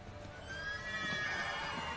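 A horse in The Witcher 3 lets out a drawn-out whinny over faint background rumble, moderately close and not very loud, lasting about a second.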